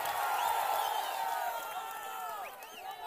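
Large crowd at a Chandrababu Naidu political rally in Anakapalli, roaring and cheering in a steady dense wash of voices with scattered whoops, clapping blended beneath, filling the whole stretch at constant loudness.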